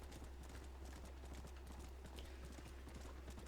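Horse hooves clip-clop in a steady, even rhythm in the video game Red Dead Redemption, faint and continuous over a low background hum, with no talking.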